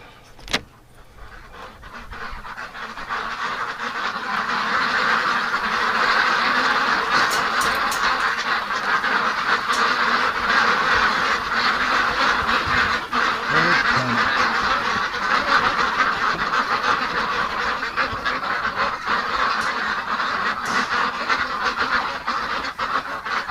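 A flock of ducks quacks continuously, a dense, overlapping chorus of calls that stays loud and steady throughout.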